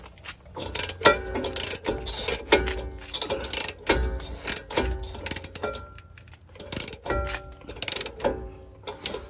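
A hand ratchet backs out Loctite-coated bolts on the rear brakes of a 2019 Ram 1500, a rapid clicking pawl in repeated bursts between short pauses, close and with no talking.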